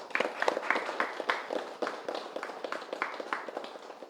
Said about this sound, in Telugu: ఒకసారి గట్టిగా క్లాప్స్ కొడతాం